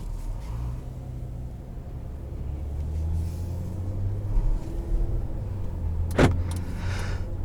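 A 2021 Ram 1500 Classic Warlock pickup with a 3.6 liter V6 and bench seat pulls away, its engine a steady low rumble from inside the cab with a short sharp squeak or click near the end.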